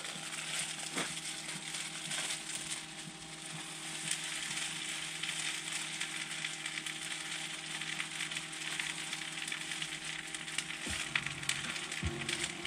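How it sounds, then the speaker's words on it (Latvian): Capelin fish fry in a pan at a campsite, giving a steady, even sizzle and crackle that runs throughout with no talking over it. "Mēs cepsim kapeļus."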